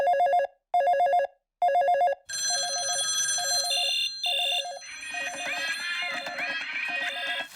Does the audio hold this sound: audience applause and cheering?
no